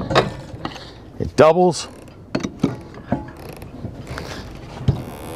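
The manual override of a Lofrans Tigress anchor windlass, an emergency handle used if power fails, is worked in irregular mechanical clunks, ratcheting clicks and creaks, close by, with someone speaking briefly in between.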